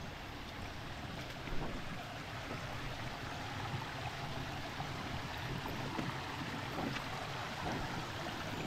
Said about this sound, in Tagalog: Yung dito ilog ay sapa.